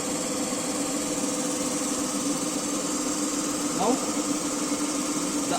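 A DC shunt machine coupled to a generator runs steadily, a constant mid-pitched motor hum with faint vibration, while someone speaks briefly over it.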